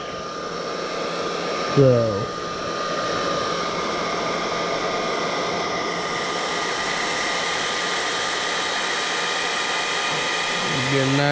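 A hot air blower heats a vinyl-wrapped headlight bezel, producing a steady, loud airy whoosh throughout, with a brief voice heard near the start.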